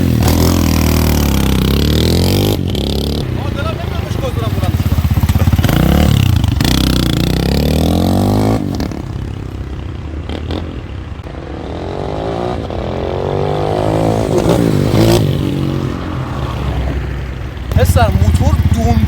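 A Honda motorcycle engine runs steadily through a test ride, its loud continuous drone rising and falling as the rider accelerates, with some scraping clatter and road noise.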